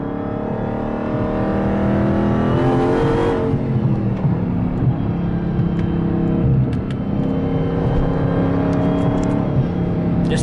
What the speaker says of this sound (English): I hear that supercharger whine to get me excited